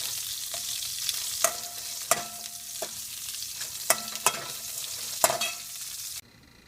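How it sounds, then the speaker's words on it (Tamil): Paneer and spinach curry ingredients sizzle and fry in a pan while a utensil stirs and knocks against it in several sharp scrapes and taps, close up with no talk. "ரொம்ப நேரம் ஃப்ரை பண்ணணுன்றல கொஞ்சம் நேரம் பண்ணால் போதும்"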